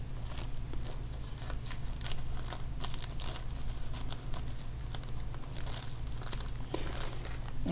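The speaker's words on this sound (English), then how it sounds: "It's just a bag, vinyl bag. I'm using this always. Cut the bag" A vinyl plastic bag crinkles and crackles close by as it is handled and cut during bonsai layering on a black pine, a continuous dense rustle with sharper snaps over a steady low hum.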